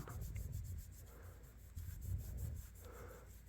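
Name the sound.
rubbing and buffing polish on vintage Case Trapper knife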